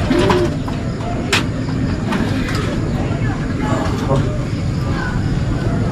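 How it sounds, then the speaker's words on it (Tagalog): Racing pigeons cooing softly amid a noisy outdoor bustle at a pigeon race training release, with a low rumble in the background and scattered sharp clicks and flutters. "Papalayo na mga kalapatids"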